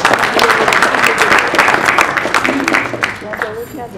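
An audience at a stage program breaks into sustained, dense applause for the full length, loud and close, with a speaker's voice faintly mixed in toward the end.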